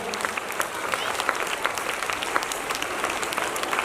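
Sustained loud clapping from a large gathering of students at an inter college's Independence Day celebration, an even, crackling wash of hands that carries on without a break.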